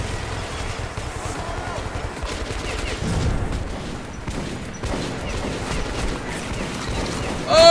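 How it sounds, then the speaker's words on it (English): Gunfire in the video game Metro 2033 Redux, a dense, continuous stretch of shooting and clatter at moderate loudness, with a player talking over it. "Who was shooting me?"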